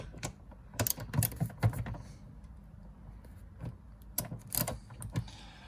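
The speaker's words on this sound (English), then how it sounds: "Now we're not taking the seat out, we're just taking these bolts out." A ratchet clicks in short bursts as it loosens seat bolts inside a Porsche Boxster 986 cabin. The clicking is faint and intermittent, with quiet pauses between the bursts.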